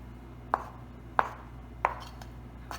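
Knife chopping boiled eggs for potato salad on a cutting board, four sharp evenly spaced chops roughly every two thirds of a second over a low steady kitchen hum.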